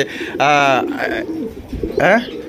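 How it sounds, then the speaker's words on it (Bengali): A pigeon coos twice nearby at a pigeon sale, low throaty calls separated by a pause, with people talking quietly underneath. "যে কবুতর কিন্তু ডাকতেছে"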